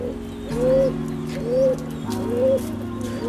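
Pigeons flying overhead, a home pair with others, give repeated soft cooing phrases in a steady rhythm, with a low sustained hum underneath.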